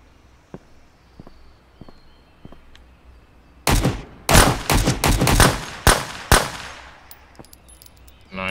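A burst of loud, close gunfire in the survival shooter Road to Vostok: a rapid cluster of sharp cracks after several quiet seconds with faint footsteps, with a few final shots trailing off.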